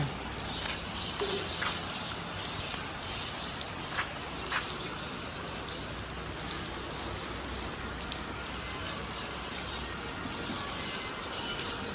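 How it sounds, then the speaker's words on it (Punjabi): Steady rain falls throughout on a farm after maize sowing, a continuous dense hiss of drops with occasional louder splatters, fairly close and without talk. "ਆ ਗਿਆ ਜੀ ਅੱਜ ਮੀਂਹ ਫਿਰ"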